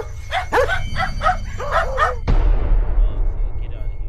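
Dogs bark repeatedly in a paranormal footage clip from a haunted-location exploration, a rapid series of sharp yips over a low steady hum, then a sudden loud bang-like burst followed by a fading noisy rumble.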